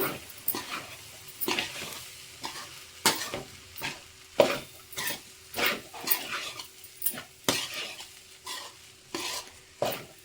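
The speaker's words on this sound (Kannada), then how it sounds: "ಈಗ ಚೆನ್ನಾಗಿ ಮಿಕ್ಸ್ ಮಾಡ್ಕೊಳ್ಳೋಣ." Paneer fried rice is stirred in a hot pan. A steady run of scraping, clattering spatula strokes comes about once a second over a soft sizzle, close and with no talking.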